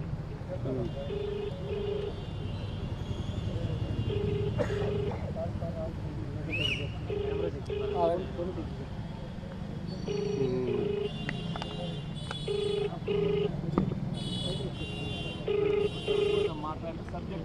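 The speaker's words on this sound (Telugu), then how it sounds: "ఇదిగో ఇప్పుడు కూడా మళ్ళీ రాంగోపాల్ వర్మకు ఫోన్ చేస్తున్నాను." Outgoing phone call ringing out during a live press meet, with soft paired ringback beeps repeating about every three seconds beneath ongoing talk and room noise.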